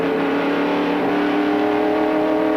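NASCAR race car engines at full throttle during the 1993 Splitfire Spark Plug 500, a loud, continuous, dense roar with no pauses.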